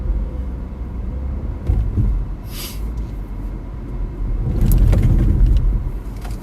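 A car drives down a quiet side street off busy stop-and-go roads, a steady near road rumble that swells louder toward the end, with no talk over it.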